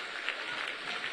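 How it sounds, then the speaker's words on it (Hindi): Crowd applause at a political election rally in Madhubani, Bihar, a brief burst of dense clapping from a large audience, steady and moderately loud. "जोर से ताली बजाइए"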